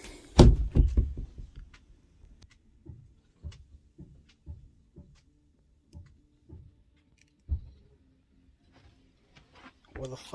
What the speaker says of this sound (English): Where the fuck is that knocking sound?